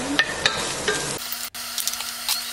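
Garlic and onion hit hot olive oil in a wok, making a brief, close sizzle with stirring scrapes and a short sharp break midway.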